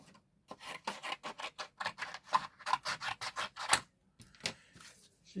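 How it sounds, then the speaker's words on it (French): A pair of scissors handled and snipping at a craft table, giving a quick run of short crisp rasping cuts in uneven rhythm, close and fairly quiet, with a few separate clicks near the end. "paire de ciseaux."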